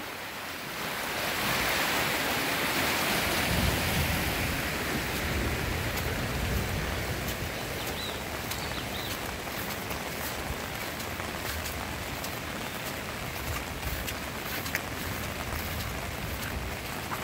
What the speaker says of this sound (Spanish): Lo hago para que ustedes miren cómo estos ríos, cómo crecen.